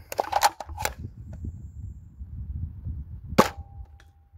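A Nerf N1 Agility foam blaster fires shots: a cluster of sharp clicking snaps near the start, then a single crisp, loud pop with a brief ringing tail, close by against a quiet room.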